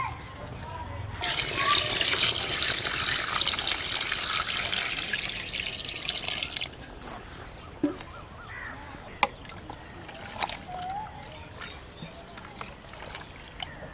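Water pours steadily into a pot of fried beef for a village-style beef masala curry, a loud rushing splash lasting several seconds, followed by quieter clinks and kitchen sounds.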